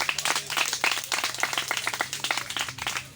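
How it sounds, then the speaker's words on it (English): An audience at a debate club inauguration claps steadily for the headmaster, a dense patter of many hands sustained throughout, close and fairly loud. "Let's clap for him."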